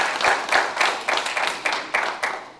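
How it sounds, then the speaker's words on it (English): Audience applause for a conference panel at the close of a rule-of-law discussion, heard as a steady patter of many hands clapping with rhythmic swells, moderately loud and without talk. "I have to ask you to give a round of applause to our panel."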